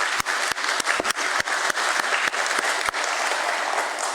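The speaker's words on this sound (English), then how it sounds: "I want you all to start this wonderful morning with a huge round of applause" A large hall audience at a stock exchange listing ceremony breaks into loud, dense applause, many hands clapping continuously with a few sharp, close claps cutting through.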